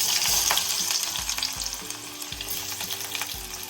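Onions fry in hot oil with mustard seeds while making squid roast, a loud, constant sizzle, punctuated by several soft knocks and scrapes of a spoon stirring the pan.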